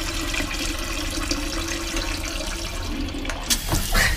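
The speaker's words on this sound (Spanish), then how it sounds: "Vamos a picarle para que ustedes vean cómo sale el agua a presión." A Japanese bidet toilet seat sprays pressurized water, a close, steady rushing hiss that holds throughout and grows louder and splashier near the end.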